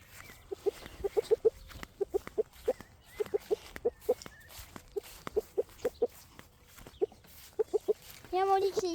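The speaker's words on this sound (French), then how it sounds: "Il y a Molly qui est ici, qui m'a pondu son deuxième œuf aujourd'hui." Backyard hens cluck in short, repeated bursts outdoors in a park, a series of soft rhythmic calls spaced across several seconds, fairly close but quiet, with a brief louder rustle near the end.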